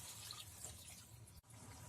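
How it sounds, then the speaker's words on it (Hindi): Half a cup of water splashing and gurgling into a pan of frying mutton, a brief steady pour with a short interruption near the end. "गोश्त को अच्छे से भूनने के बाद हम इसमें आधा कप पानी डाल देते हैं"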